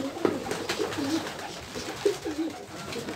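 Pigeons coo softly nearby in several low, throaty phrases, with brief pauses between calls and no talk.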